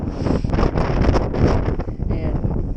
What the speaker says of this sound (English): it's pretty chilly and quite windy if you can't tell